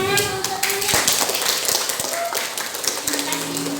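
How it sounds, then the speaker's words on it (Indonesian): Pupils in a religious studies class clap their hands together, a fairly loud burst of claps and taps with voices and chatter mixed in. "Ya, tepuk tangan untuk ini."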